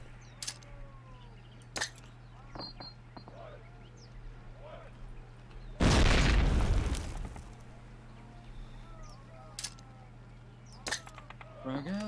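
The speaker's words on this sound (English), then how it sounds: "Throw a grenade into each of the openings before you." A frag grenade going off in Call of Duty, one loud deep blast with a rumbling tail that fades over about a second, set among faint scattered clicks and distant shots while a voice talks.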